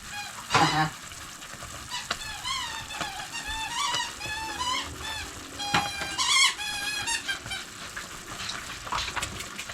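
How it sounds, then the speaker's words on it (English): A squeaky reindeer dog toy is squeezed in repeated rubbery honking squeaks, some in quick runs and some spaced apart, moderately close over faint background noise. "She likes her reindeer, it's a squeaky toy."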